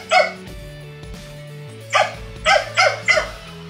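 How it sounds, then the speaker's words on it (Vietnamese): Village dogs meeting each other let out several sharp barks and yips, a single bark first and then a quick cluster of four near the end, loud and close over a steady hum. "Chó nó làm quen với nhau."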